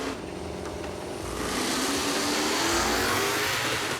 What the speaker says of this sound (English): In the left lane, Brian Jellick's turbo-powered truck is granted a few extra seconds to build up boost